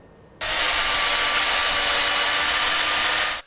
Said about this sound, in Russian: Бензопила сегодня главное орудие строителей.